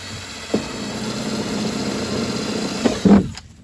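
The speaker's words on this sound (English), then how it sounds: "I'm going to drill some holes down through the bottom of it." A power drill whirs steadily for about three seconds while drilling quarter-inch holes through the bottom of a plastic bucket, with a couple of brief clicks, ending in a short louder burst before stopping.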